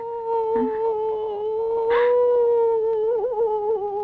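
A voice imitates a dog howling in a Tamil comedy film scene: one sustained, steady, close howl that wavers slightly toward the end, with no other sound competing.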